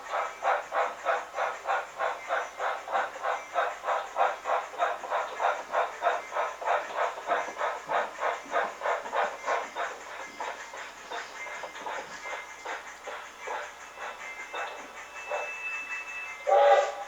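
Grande 1189 excursion train rolling along steadily, with a regular rhythmic clatter of wheels over rail joints that holds close and moderately loud, easing slightly toward the end.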